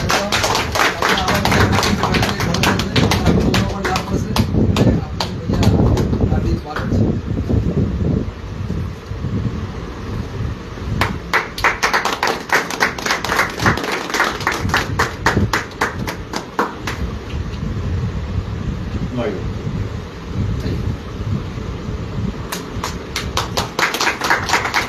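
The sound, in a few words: crowd clapping at political rally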